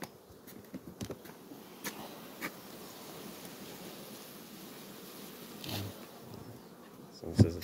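Honey bees buzz around an apiary during the linden and wildflower honey harvest, a steady low drone with scattered closer passes and a few soft handling knocks, fairly quiet throughout.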